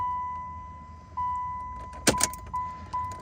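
A car's ignition key is turned on and off several times, producing a steady high chime that restarts with each turn, with a brief clatter of keys jangling in the middle, all close and fairly quiet.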